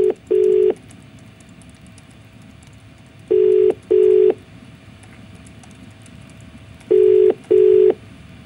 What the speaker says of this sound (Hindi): तो ये पूरी घंटी बज गई उनके फोन की